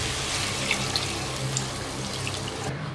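Water pours steadily into a pan of baby potato masala gravy, a continuous soft rushing and trickling with a few small splashes that stops abruptly at the end, with no talk.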